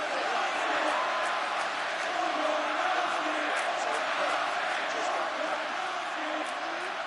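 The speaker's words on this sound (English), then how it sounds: "So the crowd voicing its appreciation after that round." A virtual arena crowd in a UFC mixed martial arts video game cheers and murmurs steadily after a round, a broad sustained roar with scattered shouts and no clear break.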